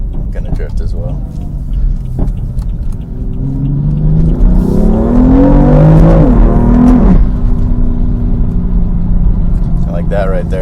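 A modified BMW M3 engine revs up and holds a rising, rumbling drone from inside the cabin while the car drifts, steady and fairly loud, with someone talking over it at the start.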